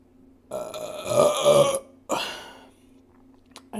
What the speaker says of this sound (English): There's a good burp for you.